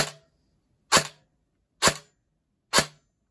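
Airsoft electric gun (AEG) with an 18K motor on a 7.4 V battery, fired four times on semi-automatic, each a sharp, close crack at a slow, steady pace.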